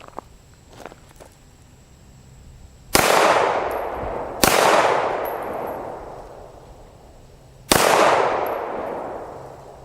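Three loud, sharp gunshots ring out on an outdoor shooting range from handguns such as an M&P9, each with a long decaying echo, spaced unevenly over several seconds with quiet clicks between them.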